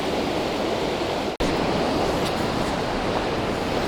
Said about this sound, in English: Steep drop in the river here, making quite a bit of white water, all tumbly.